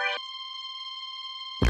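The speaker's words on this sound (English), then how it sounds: "It's like this alien sound effect." Synthesized alien sound effect, a thin filtered electronic tone with the highs taken out, holds a steady high pitch for over a second, faint and isolated between brief louder bursts at the start and end.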